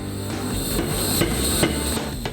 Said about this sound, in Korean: 바로 쇠를 꺼내 망치질을 하는데요.